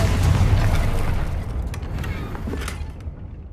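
The Confringo spell exploding in the Hogwarts Legacy video game, a loud, deep, rumbling blast that fills the whole stretch and slowly fades, with crackling debris near its end.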